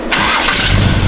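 A Camaro's engine cranks briefly and then catches, rising quickly into a loud, rough running roar up close.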